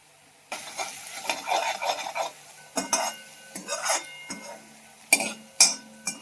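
Dal tadka tempering with cumin, onion and tomato in a pan, a few sharp metallic clinks and scrapes of a spoon stirring over a faint sizzle, in separate close bursts.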